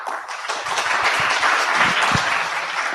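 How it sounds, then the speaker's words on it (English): Audience applause at the East Africa Health Expo 2022 plenary session, a continuous, fairly loud patter of clapping hands in a hall, holding steady for the full stretch. "A round of applause, ladies and gentlemen."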